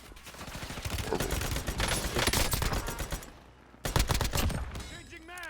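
Rapid bursts of AUG rifle fire in a first-person shooter video game, loud and close, rattling for about three seconds, briefly pausing, then erupting again with another volley.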